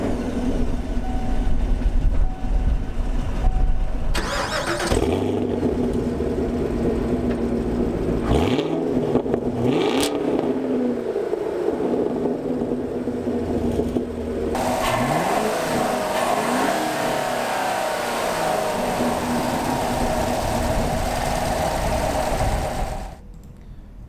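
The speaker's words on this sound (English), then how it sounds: "now I want to start up this engine for you because obviously it sounds incredible" A 2016 Chevrolet Camaro SS V8 engine cranks and fires up, then idles with a deep burble and is revved repeatedly in loud, throaty bursts before cutting off.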